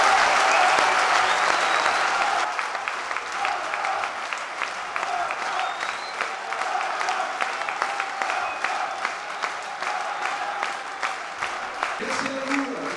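Crowd applause at a presentation of the Aviron Bayonnais rugby squad for the 2025/2026 season, a dense sustained clapping from a large audience that starts loudest and continues steadily, with faint voices mixed in.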